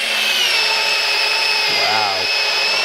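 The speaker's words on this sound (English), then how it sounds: "And I have it in drill mode." A handheld power drill in drill mode runs with high torque, a loud continuous whine and grind held steady for about three seconds, with a brief voice over it.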